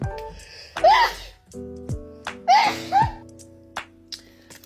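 Sneezes from a woman fiddling with her nose ring: a sharp burst near 0.8 s, then two more close together around 2.5 s and 3 s, loud and near over a steady low background hum.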